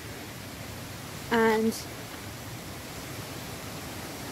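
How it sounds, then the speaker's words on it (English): A woodland stream near a big waterfall in Scotland gives a steady, even rush of flowing water throughout, with a single brief spoken word rising above it partway through. "I am near a stream and I've just gone past a big waterfall"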